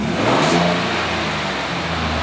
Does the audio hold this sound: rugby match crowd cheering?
no